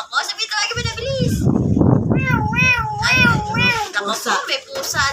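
A pet parrot mimics a cat, producing several rising and falling meow-like calls in quick succession, close and clear, with voices mixed in.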